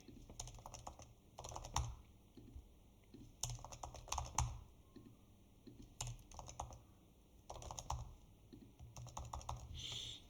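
Light clicking on a computer keyboard in quick bursts separated by brief pauses, steady and close.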